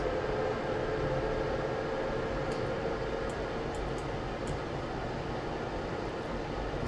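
A metro train runs in Train Sim World, a steady broadband rumble and rush of wheels on track, constant throughout with a few faint high clicks and no talking.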